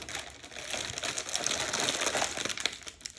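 Fingers struggling to pry open a metal English Breakfast tea tin: close, continuous crinkly scraping and small rattling clicks, fairly loud and busy throughout, with no voice.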